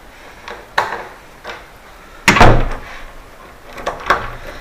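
A laundry door handle, just fitted with a repaired lock, is worked back and forth: a few light latch clicks and rattles, then a louder wooden thud of the door, all close by with no talking.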